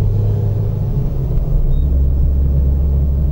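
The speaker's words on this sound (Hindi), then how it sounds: "पहले मैं इस गाड़ी को ओवरटेक कर लूं।" Car engine rumbling loud and close while overtaking another vehicle on a road near Rajaji National Park, a steady low drone that swells slightly partway through, with no talk.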